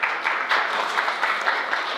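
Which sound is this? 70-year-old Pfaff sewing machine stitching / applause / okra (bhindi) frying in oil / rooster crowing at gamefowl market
applause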